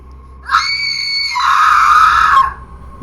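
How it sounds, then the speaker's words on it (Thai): A woman lets out a loud, shrill scream lasting about two seconds, rising and sustained, with nothing else around it. "ก่อนจะแผ่เสียงร้องจนเขาตกใจ รีบเอามือปิดหู"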